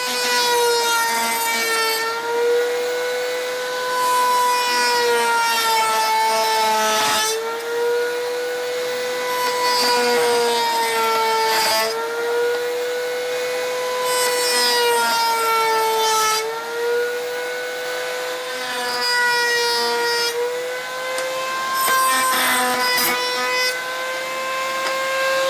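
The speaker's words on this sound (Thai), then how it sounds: "เดี๋ยวผมก็ใช้ ดิมเมอร์หรือว่าเราเตอร์ก็ได้ลบมุม45ที่ขอบซะหน่อยนะครับ" A wood trimmer or router chamfers a 45-degree edge on a woodworking piece, giving a loud, continuous motor whine whose pitch dips and recovers repeatedly as the bit bites, with no talking.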